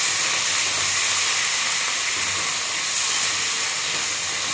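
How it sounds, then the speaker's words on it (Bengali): Paneer, potato and capsicum fry in oil over a high flame, producing a loud, continuous, even hissing sizzle throughout. "হাই ফ্লেমে ভাজতে হবে এটা"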